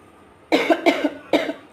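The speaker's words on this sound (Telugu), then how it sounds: "దగ్గు వస్తుంది బాగా" Three harsh coughs up close, the first two quickly paired and the third after a short pause, against a quiet background.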